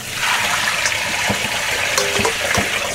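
Tap water streaming steadily onto soba noodles being rinsed in a kitchen, a continuous splashing gush with a few brief clatters as the noodles are handled.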